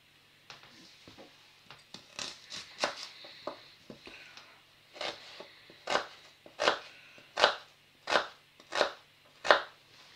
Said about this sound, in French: On va bien les couper pour faire une bonne cuisson.